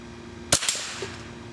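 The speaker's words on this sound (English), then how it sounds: "And let's take the challenge of shooting that starling once again." A single sharp .22 rifle shot fired at a small starling target on an outdoor range cracks loudly and close, followed by a brief echoing tail and a faint distant impact, with no talk.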